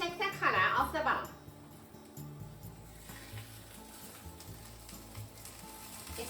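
A nori cheese potato cake fries in a frying pan with a steady, soft sizzle, fairly faint, after a brief burst of clattering at the start, with a voice talking over it.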